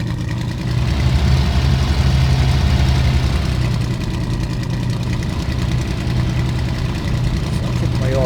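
Small airplane engine running steadily while taxiing, a continuous low droning hum with a strong low-pitched tone that holds level throughout, close and loud.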